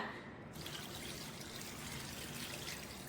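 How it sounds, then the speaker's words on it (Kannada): Second-extract coconut milk is poured into a pot over ginger, just enough to cover it, for a traditional ginger tonic. It makes a continuous soft trickling, splashing pour that runs steadily throughout. "ಶುಂಠಿ ಮುಳುಗುವಷ್ಟು 2ನೇ ಬಾರಿ ತೆಗೆದಂಥ ತೆಂಗಿನ ಹಾಲನ್ನು ಹಾಕಿ ಬೇಕಿಡಬೇಕು"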